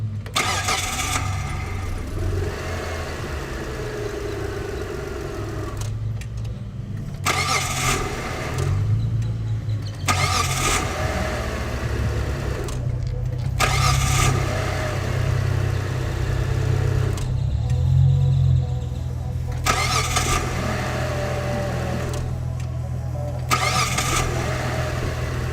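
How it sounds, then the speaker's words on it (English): A car engine cranks and starts from a pack of SPIM08HP 3.7V 8Ah lithium polymer cells rated 25C 200A. It settles into a loud, steady low running hum, broken by several brief dips and restarts. "Next, I'm going to start the car up"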